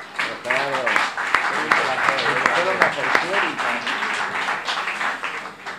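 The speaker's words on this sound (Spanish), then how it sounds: "le pido un fuerte aplauso para Gerardo" An audience applauds at a book presentation in Barcelona for "Cuando Éramos Invencibles", with a dense, steady patter of clapping mixed with voices talking and calling out over it.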